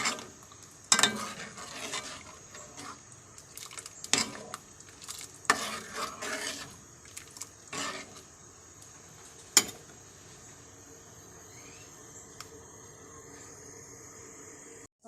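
Sweet soy sauce mixture with beef, mushrooms and tofu stirred and sizzling in a pan, with scattered scraping and clinking of a utensil against the pan over a steady background hiss.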